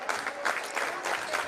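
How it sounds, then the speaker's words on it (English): The student section claps in a rhythmic beat at a high school basketball game, several steady pulses of crowd clapping over a brief stretch. "Student section starts clapping."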